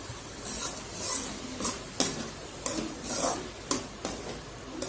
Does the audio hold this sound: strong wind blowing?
no